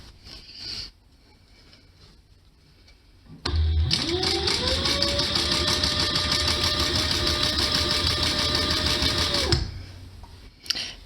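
An upholstery sewing machine stitching the top panel of a cushion cover onto its boxing strip, a steady close motor whir with rapid needle rhythm running for about six seconds after quiet room tone, then stopping.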